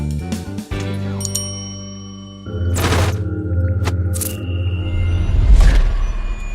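A bright subscribe-bell notification ding rings out loudly, followed by further metallic chimes and ringing tones that linger and overlap.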